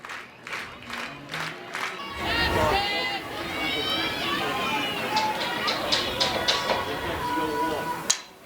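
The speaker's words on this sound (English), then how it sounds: "this crowd on their feet and cheering" Softball crowd cheering after a run scores, a loud roar of voices and clapping rising after a few scattered claps and holding steady, with a commentator talking over it.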